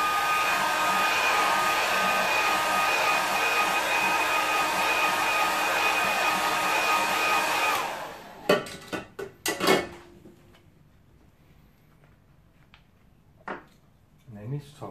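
A hair dryer drying a watercolour painting runs as a steady loud whir for about eight seconds, then cuts off, followed by a few sharp clicks and knocks of handling in a quiet room.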